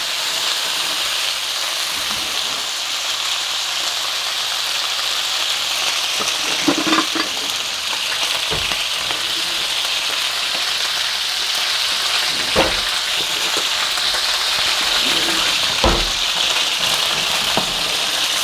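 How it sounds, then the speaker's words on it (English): Sun-dried tomato gnocchi frying in a sauté pan. A steady, even sizzle holds throughout, with a few faint clicks and taps of handling on top. "I also chose a saute pan so that I can flip my gnocchi as it's cooking."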